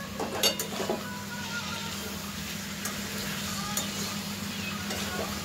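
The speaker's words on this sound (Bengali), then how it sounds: "এঁচোড়টা দিয়ে একটু মশলার সাথে ভালো করে মিশিয়ে নেব, ভালো করে কষিয়ে নেব আস্তে আস্তে" Jackfruit is stirred with spices in a pan, giving a steady low sizzle with soft scraping and a few louder clatters near the start, with no voices heard.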